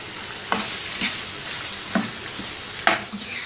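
Chicken frying in a pan with a continuous sizzle, punctuated by four or five sharp scrapes and knocks of a spoon stirring, close and fairly loud, no voices.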